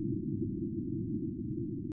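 Magnitude 4.6 marsquake on Mars, captured by NASA's InSight seismometer and made audible as a steady, dense low rumble that holds evenly throughout and cuts off abruptly at the end.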